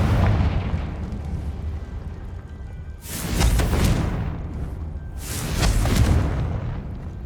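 Two heavy explosive blasts from the Confringo spell in Hogwarts Legacy, each a loud booming burst that decays over a second or two, sounding out of a quieter, rumbling background.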